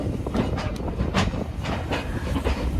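Steam train on the West Somerset Railway rolling through Dunster on the way to Minehead, a steady rumbling rush with rhythmic clatter of wheels and carriages close by, no talk over it.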